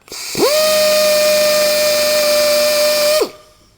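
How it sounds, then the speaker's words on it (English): A power tool spins up and grinds down a damaged plastic car bumper on a Suzuki Wagon R+, one loud continuous whining tone of about three seconds that winds down at the end. "so we've got to grind some of that down"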